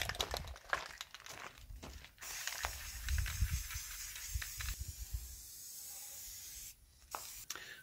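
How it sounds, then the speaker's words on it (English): Spray paint hisses from an aerosol can onto a rebuilt deer feeder in a series of close, bursty sprays of varying length, with short pauses and a longer gap near the end. "Let's probably hit that with some spray paint."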